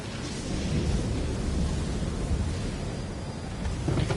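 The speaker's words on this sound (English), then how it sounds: "only I'm stupid enough to sail us into a storm" Stormy seas in Assassin's Creed: a steady, loud roar of wind and crashing waves that stays dense and unbroken throughout, with no speech over it.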